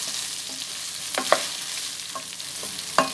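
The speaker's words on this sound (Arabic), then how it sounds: "هنزل بقى انا في الوقت ده بالرز بتاعي اللي انا غسلاه طبعا كده، وهقلبها كويس في بعض" Washed rice and vermicelli frying in oil give a steady quiet sizzle, with a spoon stirring and scraping the pot in a few scattered clinks, close by with no talking.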